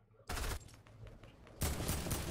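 Gunfire from an online video game, with several players shooting: two loud, sustained bursts of rapid shots separated by a quieter stretch of scattered fire.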